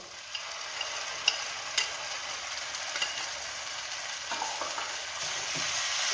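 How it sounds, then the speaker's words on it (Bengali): Tomato paste is stirred into a frying prawn curry, making a steady, moderately faint sizzle with a few soft clicks of a stirring spoon. "এবার টমেটো পেস্টটা অ্যাড করব।"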